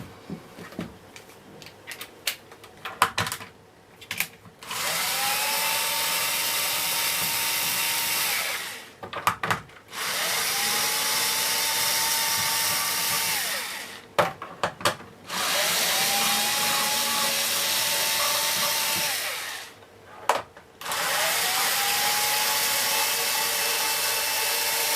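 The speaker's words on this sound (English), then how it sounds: "that's all 4 screws loosened off" Cordless screwdriver loosening four T10 screws on a Miele Cat & Dog STB-205 full-size turbo brush, heard as four steady whirring runs of several seconds each, separated by brief pauses with handling clicks.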